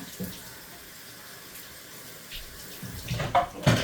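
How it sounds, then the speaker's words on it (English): Water from a kitchen tap runs steadily while a kitchen knife is rinsed, a soft continuous stream that grows louder and more splashy toward the end. "Okay, I rinsed my knife."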